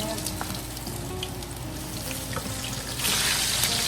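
Salmon steak frying over low heat in a home kitchen pan, a steady close sizzle that grows brighter and louder toward the end, with no talking.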